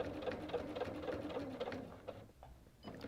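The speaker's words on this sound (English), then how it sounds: "So I'm stitching my way down in the ditch of the little flower block" A sewing machine stitches in the ditch of a flower block on a quilt, a close rapid stitching rhythm that slows and pauses near the end before resuming briefly.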